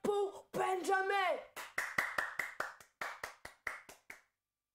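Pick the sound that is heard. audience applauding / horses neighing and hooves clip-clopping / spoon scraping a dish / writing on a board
audience applauding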